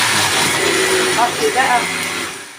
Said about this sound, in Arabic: اضربها بقى في الخلاط